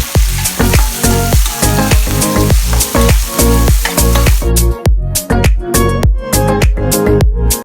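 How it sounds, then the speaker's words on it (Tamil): Small and large onions sizzle loudly in hot oil in a pan for sambar rice, with a steady crackle broken by rhythmic scraping stirs, close and without talk. "பின்பு சின்ன வெங்காயம், பெரிய வெங்காயம் கொட்டி வதக்கவும்."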